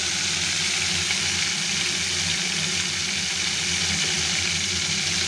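Prawns coated in salt and turmeric frying lightly in oil in a pan, a dense continuous sizzle with a low rumbling hum underneath, steady and close.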